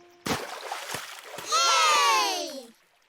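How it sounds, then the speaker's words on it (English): A cartoon water splash bursts in loudly and close, following earlier short thumps and hits, then a long bright bubbling whoosh that rings on for about a second before fading to quiet. "Splash!"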